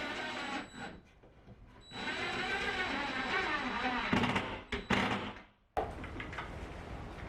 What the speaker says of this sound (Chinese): 安装这个架子其实很简单，先在一边打进一个螺丝